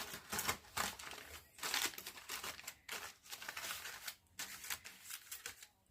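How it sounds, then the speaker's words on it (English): Aluminum foil crinkles and rustles close by as it is spread over a pot roast, steady crumpling in bursts with short gaps. "So I'm just going to put the foil over the top of that."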